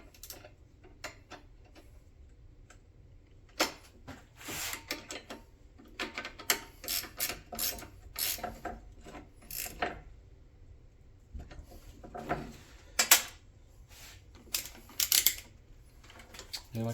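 Ratchet tightening bolts while installing a Shiftwork overdrive console conversion, heard as bursts of quick clicking strokes, close and moderately loud, separated by brief pauses and light handling noise.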